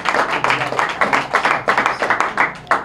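Audience applause at a political party event announcement: dense, steady clapping from a crowd throughout, swelling in rhythmic waves, fairly close and loud, with no talk over it.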